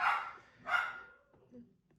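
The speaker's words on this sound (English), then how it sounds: "Oh, there goes my dog." A pet dog gives two sharp barks close by indoors, then a few softer yips trail off.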